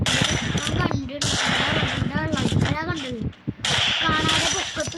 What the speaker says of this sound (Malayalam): കാണാതെ പൊക്കത്ത് പോലും വെടിവെച്ച് അവൻ